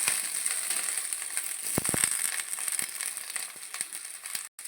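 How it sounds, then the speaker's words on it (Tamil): Okra (ladies finger) sautéing in a little oil for a tamarind curry gives a faint, steady sizzle with scattered small crackles and a few louder pops midway, heard close and without talk. "அரிஞ்சு வச்சு லைட்டாக எண்ணெய் ஊற்றி வெண்டைக்காயை வதக்கிக்கணும்."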